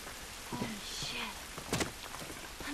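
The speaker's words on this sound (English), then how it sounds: "This rain ain't gonna do us any good." Rain patters steadily in The Last of Us under soft, scattered voices, with a few brief knocks and thuds rising above the constant hiss.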